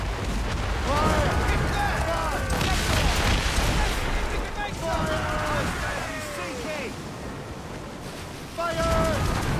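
Ship cannons fire in a naval battle in Assassin's Creed Rogue, deep booming volleys rolling over surf and wind, with shouted commands and voices over the top.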